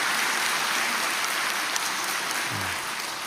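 A church congregation applauds during a sermon, producing a dense, steady wash of clapping that fills the room evenly for the whole stretch, with a brief low voice near the end.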